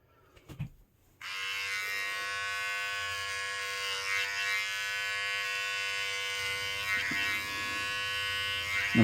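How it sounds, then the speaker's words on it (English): Electric hair trimmer set to its lowest guard, buzzing steadily and loudly close by after a brief quiet start, running continuously with a few small shifts in pitch as it moves. "So I'm going to use my trimmer."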